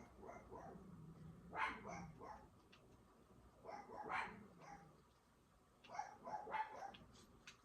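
Dogs bark indoors at home in a few short bursts separated by pauses, faint and somewhat distant, with yips and a slight whimpering quality between barks.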